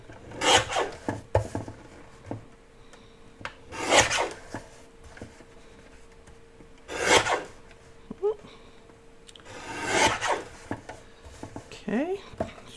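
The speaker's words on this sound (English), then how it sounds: "I'm going to use my trimmer to trim these off" A paper trimmer slides through book-page specimen cards in several separate raspy strokes, each a short scraping swipe spaced a few seconds apart. Quiet handling noises fall between the strokes, and a person speaks briefly.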